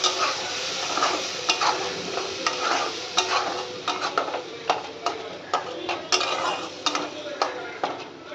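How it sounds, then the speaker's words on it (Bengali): Ground spice paste fries in a pan as it is stirred, with a constant sizzle under sharp, regular scraping and clinking strokes close by. "এবারে যে বাটা মশলাটা আছে সেটাকে আমি দিয়ে দেবো"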